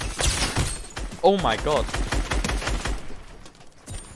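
Rapid gunfire in a Fortnite-style competitive trio match, dense bursts of shots running throughout under excited talk from a player.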